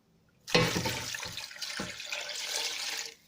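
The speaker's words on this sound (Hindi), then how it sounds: "और इसमें डालेंगे पानी।" Water pours into a pan in a steady rushing stream for a few seconds, starting abruptly and stopping near the end, close by.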